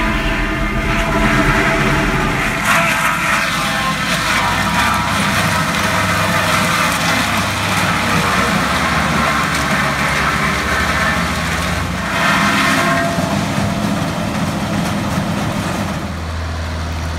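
A willow harvester cutting willow trees with discs and sucking in the stems, a loud continuous engine roar with grinding and whooshing, close and unbroken.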